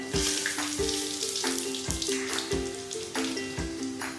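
Dried red chillies, five-spice and two or three bay leaves crackle in hot mustard oil, a steady sizzle with brief spits and pops running under background music.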